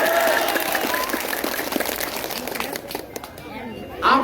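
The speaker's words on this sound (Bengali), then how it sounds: "আপনাদের হাততালিটা আপনাদের দেওয়া উচিত ছিল" Audience clapping at a BNP election campaign rally in the Manikganj-1 constituency in Bangladesh, a crowd's applause rattling under someone speaking loudly into a microphone almost throughout.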